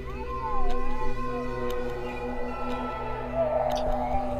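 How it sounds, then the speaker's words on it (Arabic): In a horror narration, a child's crying sound effect wails in rising and falling cries over a low steady drone, fairly loud, with no speech. "يتبعه صوت عياط لطفل في آخر الشقة."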